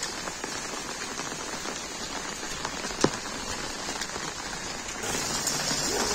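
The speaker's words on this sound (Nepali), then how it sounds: "पानी पर्यो" Steady rain falls in Kathmandu, drops pattering on surfaces close by with a single sharper drip or knock partway through, and the downpour grows slightly heavier toward the end; no one speaks.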